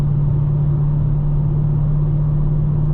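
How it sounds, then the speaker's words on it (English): A 2020 Dodge Challenger Scat Pack Widebody with 485 horsepower cruises under way, its engine a loud, steady low rumble with a constant drone and no notable revving. "I'm driving the Scat Pack, 485 horsepower"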